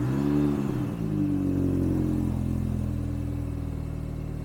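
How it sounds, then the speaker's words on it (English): A supercharged JCW Mini Cooper S with a starting fault cranks without catching, giving a steady low whirring drone that slowly fades, with no voices. "So let's try and start the car."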